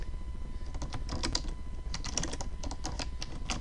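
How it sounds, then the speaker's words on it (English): Someone types a search into a web browser on a computer keyboard, a quick, steady run of close keystroke clicks with no talking. "your internet browser and type in makeup contouring"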